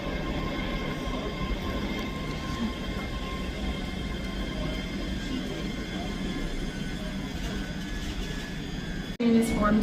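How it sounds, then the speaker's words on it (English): A Scotrail class 385 electric train pulls into Edinburgh Haymarket station, a steady rumbling hum that holds for several seconds, then a short loud burst near the end. No speech is audible. "Arriving in now is the 11:03 Scotrail service from Edinburgh Waverley to Glasgow Central, which is 385015 again"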